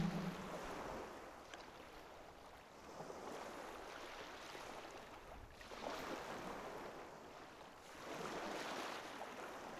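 Sea waves roll in and recede in slow, soft surges, each swelling and fading over a few seconds, with a faint, distant wash of surf and a breathy rush, and no voices.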